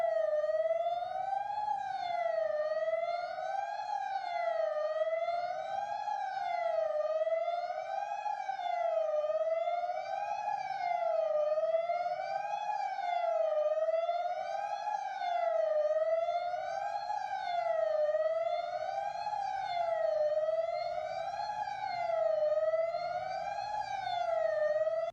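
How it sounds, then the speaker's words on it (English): A tornado warning siren sounds outdoors in downtown Johnson City near a university campus, a steady wailing tone that rises and falls in a regular cycle about every two seconds, continuous and moderately loud throughout with faint background noise. "that is video of a siren going off in Johnson City, that is near ETSU's campus"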